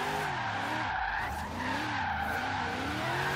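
A Chevy Corvette Z06 drifts in third gear in Forza Horizon 3, its tires squealing continuously and loudly over a steadily revving engine that rises and falls as the slide is held.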